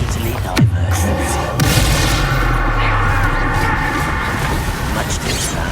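A Bombarda spell explodes in the Hogwarts Legacy video game, a loud booming blast followed by rumbling combat noise and a second thump, with a voice speaking over the action.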